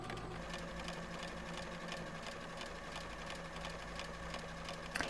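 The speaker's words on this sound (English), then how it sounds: "when the needle goes to the left and creates the little straight line, it's biting into the fabric as we stitch all the way down and around our heart" A sewing machine runs steadily, stitching a blanket stitch around a turned appliqué heart on quilt fabric, its continuous motor hum and rapid needle rhythm holding through the whole stretch with a small clunk right at the end.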